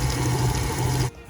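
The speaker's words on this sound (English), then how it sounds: "Now add a splash of water." Water pours briefly from a tap into royal icing mix, a steady close splash lasting about a second before cutting off abruptly.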